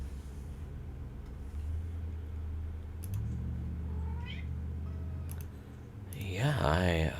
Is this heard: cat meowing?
yes